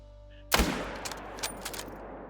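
A single sharp, loud hunting rifle shot in the game Call of the Wild, fired at a whitetail deer, ringing out after a quiet moment and trailing into a rolling echo with faint crackles.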